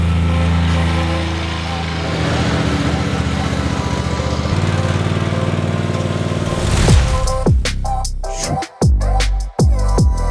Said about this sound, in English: Let's do some more mowing.